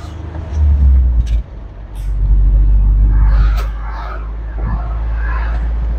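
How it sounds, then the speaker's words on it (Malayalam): A Tata Intra V20 bi-fuel pickup running on petrol drives along, its engine a loud, steady low rumble with a brief dip early on, while a person talks over it. "പെട്രോളിലാണ് വാഹനം പൊയ്ക്കൊണ്ടിരിക്കുന്നത്."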